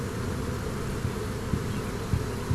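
Honeybees from a swarm fan and buzz around a hive box in a dense, steady drone, close and continuous with a few soft knocks, no talk.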